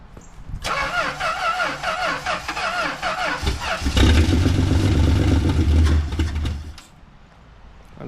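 A 1962 Valiant Signet 200 barn-find car engine cranks loudly with a wavering, rhythmic starter whir. Partway through it catches into a rough, steady low running roar that lasts a few seconds, then cuts out abruptly.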